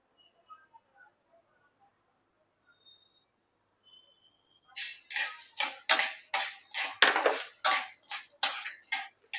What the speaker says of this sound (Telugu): కొంచెం ఆయిల్ వేడెక్కగానే ఈ ధనియాలు వేసేయండి